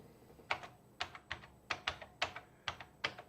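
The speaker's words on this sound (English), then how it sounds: "Angry typing." Angry typing on a computer keyboard: hard, uneven bursts of key clacks, close and fairly loud, hammered out in quick clusters with short pauses between them.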